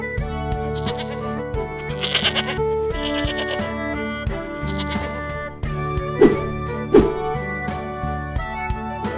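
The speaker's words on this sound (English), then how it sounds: "Sheep." Sheep bleating in a short cartoon-style animal sound, a few wavering bleats rising over a steady musical backing, close and clear.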